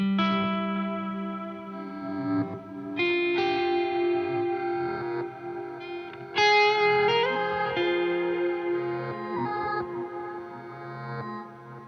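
Sustained electric guitar chords through a Mood looper pedal swim in a wash of modulated, reverberant effects, with layered tones shifting and swelling, loud and alone without any voices.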